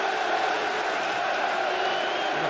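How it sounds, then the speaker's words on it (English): Crowd at Stamford Bridge during a Chelsea versus Liverpool Premier League football match, a continuous broad roar held at steady loudness throughout. "This Stamford Bridge crowd behind them."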